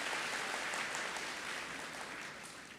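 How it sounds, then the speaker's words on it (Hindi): An audience at a Brahma Kumaris spiritual talk claps together, a dense and fairly loud burst of applause that slowly tapers off. "ताली बजा लो अपने लिए"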